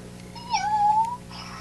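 A cat gives a single clear meow, rising then holding steady, close and fairly quiet against a low background hum.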